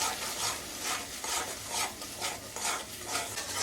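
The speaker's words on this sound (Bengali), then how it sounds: "এখন মশলাটা খুব ভালো করে কষিয়ে নেব।" Ground spice paste of coriander, cumin, garlic, ginger and salt is stirred and scraped around a hot pan for chicken korma, giving a steady soft sizzle with rhythmic rubbing strokes of the spoon, close and continuous, with no voices.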